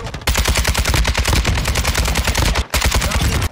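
Rapid automatic gunfire in a Call of Duty game fires at a killstreak in loud, tightly spaced bursts. Two brief pauses break the nearly continuous fire.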